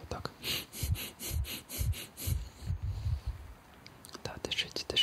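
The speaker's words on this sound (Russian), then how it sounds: "Подышите быстро, вот так." Fast, deep breaths drawn in and pushed out during a medical checkup, a steady run of close, soft, airy pulses with faint whispery texture.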